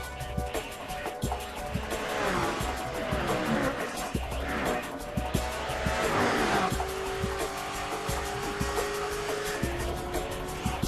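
Racing cars from the video game Project Gotham Racing 3 roar and shift through gears with brief tire squeals, engine notes rising and falling over a continuous loud mix of game audio.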